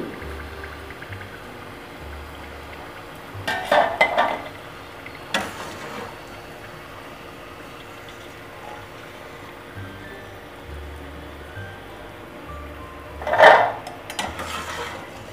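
Golden-fried namak pare scooped out of a frying pan onto a plate, giving a few faint, scattered clinks and scrapes of a utensil against cookware over a quiet kitchen background.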